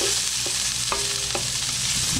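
Onions frying in a hot pan, a loud steady sizzle throughout, with three distinct knocks of a wooden spoon stirring against the pan at roughly half-second intervals.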